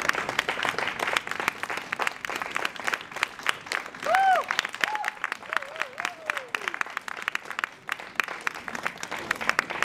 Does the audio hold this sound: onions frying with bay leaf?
no